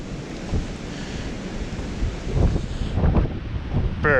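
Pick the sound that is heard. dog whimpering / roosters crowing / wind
wind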